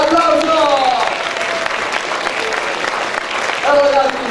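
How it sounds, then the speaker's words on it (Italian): Audience applause at a comedy festival show in Nicosia, a steady wash of clapping from the crowd running throughout, with a host's voice heard over it at the start and end. "Che applauso fate? Vai, applauso!"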